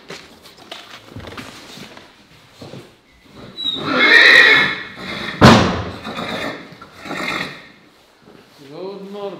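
A horse neighs loudly and close by in a cold winter stable at minus 15, a shrill whinny rising in the middle, amid scattered thumps and a clatter and followed by a brief voice at the end.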